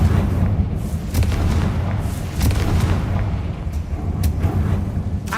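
Confringo spell explosions from a video game, a string of loud, heavy booms and blasts landing close together over a dense rumbling roar, without any speech.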